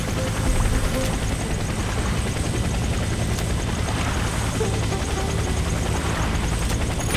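A helicopter in the video game Warface thrums loudly and steadily, its rotor and engine drone constant and close for the whole stretch, with no talk over it.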